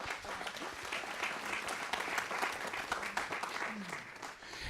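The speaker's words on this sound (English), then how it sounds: "Let's give them a round of applause" Clapping for college quiz bowl team members at a quarter-final match fills the room in a steady, moderately loud burst, with a few murmured voices underneath.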